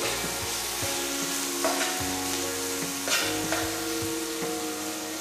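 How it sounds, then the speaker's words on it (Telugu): Tomatoes with a pinch of turmeric fry in a pan with a constant close sizzle. A spoon stirs and scrapes against the pan in regular strokes about every second or so. "పసుపు చిటికెడు, టమాటో 2 వేసి వేయించాలి"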